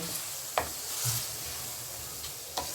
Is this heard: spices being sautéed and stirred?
yes